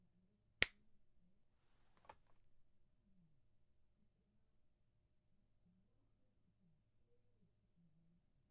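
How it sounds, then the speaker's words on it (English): A single sharp finger snap rings out in a quiet room as an audio check, followed by a fainter second click and then near silence. "the snap test, or like, the clap test, is something that a lot of people do to test out their audio"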